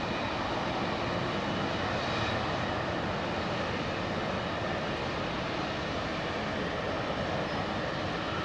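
A Cathay Pacific Boeing 747-8 freighter arriving at Heathrow, a continuous, even jet engine roar at moderate distance that fills the whole stretch.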